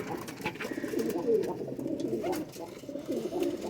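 Domestic pigeons coo steadily and close by, with low throaty calls running throughout and faint murmuring in the background.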